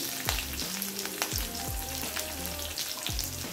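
Curry leaves sizzle and crackle steadily in hot oil, with a few sharp pops and spits breaking through the continuous frying hiss.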